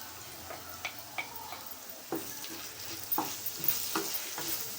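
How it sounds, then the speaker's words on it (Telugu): Masala paste frying in a pan for a mutton drumstick curry, a steady soft sizzle broken by periodic scraping stirs, close and moderately quiet. "మసాలా పచ్చివాసన పోయే వరకు వేయించుకోవాలి."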